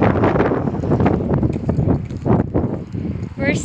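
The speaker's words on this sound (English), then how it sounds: "it's quite windy." Gusty wind blows outdoors at Shimazu Park in Kamifurano, Japan, a steady close buffeting rumble across the microphone with muffled voices faintly underneath.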